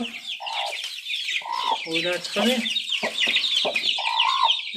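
Chickens and chicks cluck and peep in a loose, busy chorus, with high chick chirps running throughout and louder hen clucks in short bursts; a voice speaks briefly underneath.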